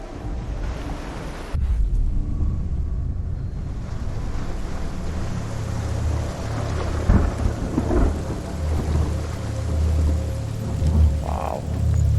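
Heavy rain pours steadily while deep thunder rolls and rumbles in the video game Hellblade: Senua's Sacrifice, with a sharp crack early on and the storm continuing loud throughout.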